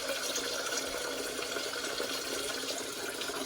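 Tap water runs steadily into a cooking pot for macaroni and cheese, a continuous close splashing hiss with no pauses.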